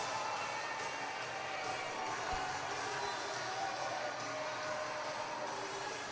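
Crowd at a senior hockey game cheers after a late goal, a steady broadband roar of voices with whoops sustained throughout, loud and continuous without distinct individual speech.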